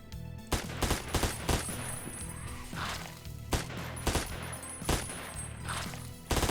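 Rapid bursts of MAC 10 submachine gun fire in the video game Ashes 2063, sharp clustered shots repeating in several short volleys over a low background hum, with no talking.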